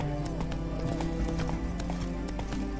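Roach, a horse in The Witcher 3 video game, gallops with a quick, steady clip-clop of hooves over a continuous game soundtrack, and a brief whinny rises above it.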